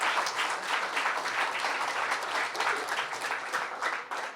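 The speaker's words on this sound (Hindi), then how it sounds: "ताली बजाओ बच्ची के लिए।" An audience applauds a young girl, steady dense clapping from many hands filling the space without pause for several seconds, tapering slightly at the end.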